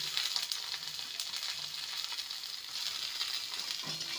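Chopped capsicum and cabbage frying in a pan with potatoes and carrots, a soft, even hiss of sizzling oil that stays faint and steady throughout, with no voices.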